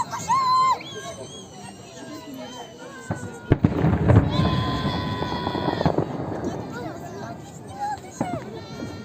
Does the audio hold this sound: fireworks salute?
yes